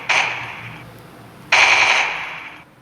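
A phone gun sound simulator app fires two sharp burst-mode volleys in quick succession, each a loud crackling rattle that trails off, with a pause of about a second between them.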